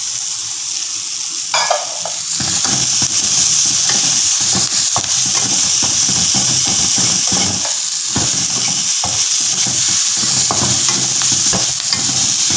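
Chopped onion and green chilli fry and hiss in a pan while a utensil scrapes and stirs them in quick, repeated strokes throughout.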